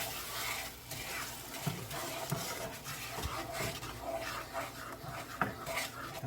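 Ingredients for Jamaican-style BBQ pork ribs being stirred and combined in a bowl, with soft scraping and wet mixing sounds close by, continuous with small clinks, and a dog panting somewhere nearby.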